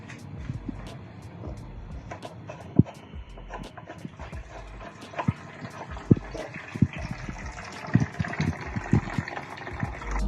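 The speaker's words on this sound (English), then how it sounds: "air bleeder valve, letting some air partially out and close it to stop the water running from filter" Water and air gush from the air bleeder valve of a pool filter tank as trapped air is released, making a steady sputtering hiss with irregular pops and spurts throughout.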